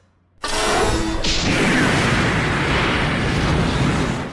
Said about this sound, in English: only to promptly die again inside of an exploding church